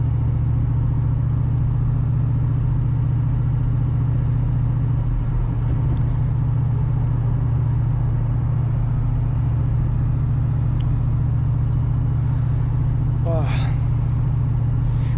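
Manual V8 Holden VN while driving, a steady deep engine drone and rumble heard from inside the car, continuous and even, with a faint brief squeak near the end.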